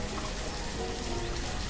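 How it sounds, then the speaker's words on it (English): Steady rain in the city-building video game Banished, a dense, even hiss of falling drops that fills the whole clip without a break or any voice. "you get to listen to it rain"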